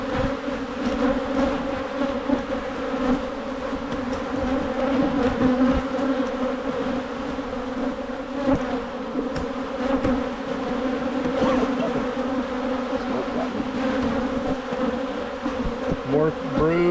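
Large honey bee colony buzzing steadily throughout an early spring hive inspection, a dense continuous hum close by with no talk.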